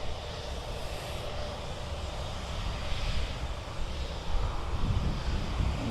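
An aircraft approaching Birmingham Airport, heard as a steady distant engine roar that swells gradually and grows slightly louder toward the end, with some wind noise and no talking.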